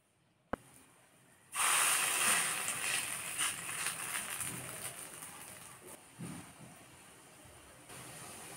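Fish roe fritters sizzle in a small amount of hot oil, a steady bright crackling hiss that rises suddenly and stays loud, with a sharp click just before it starts.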